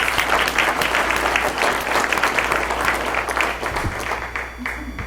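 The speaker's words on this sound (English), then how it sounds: "Give me a round of applause." Audience applause at a medical institute's leadership awards and annual meeting, steady dense clapping filling the room for about five seconds, loud and continuous with a slight fade near the end.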